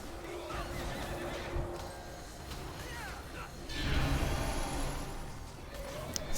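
Horses whinny in the World of Warcraft dungeon Shadowfang Keep, a couple of high neighs rising out of dense combat noise and spell effects, fairly faint in the busy mix.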